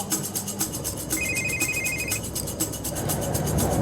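A telephone rings briefly in the background with a short electronic tone, partly masked by loud, rhythmic train or vehicle rumble throughout.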